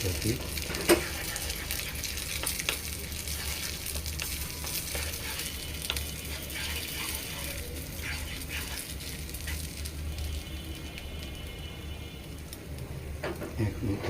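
Oats omelette batter frying over low heat in a pan while being mixed: a soft, continuous sizzle with occasional light utensil taps, fairly quiet and steady throughout.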